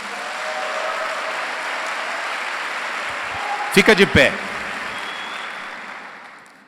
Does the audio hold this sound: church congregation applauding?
yes